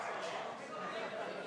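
A dog keeps yipping and barking in the background of a tabletop gaming session. The sound is steady and somewhat muffled, with a faint voice-like murmur mixed in.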